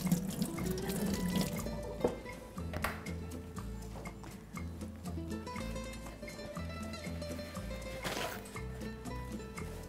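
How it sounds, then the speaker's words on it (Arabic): Water from a kitchen tap runs as hands are rinsed, a soft continuous splashing stream sitting under louder tonal background music, fairly faint and near. "بشطف ايدي"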